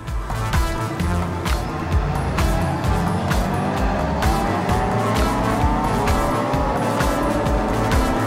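A BMW M3 GT4 race car, heard from the cockpit at the start of a 24 Hours of Spa round in 2013, revs hard through the gears with a loud, continuous engine roar and faint tire noise.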